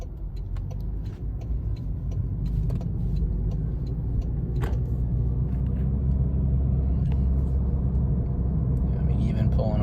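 A 2025 Toyota Corolla Hatchback rolls through stop-and-go traffic, its low engine and road rumble steady and close inside the cabin while someone talks over it.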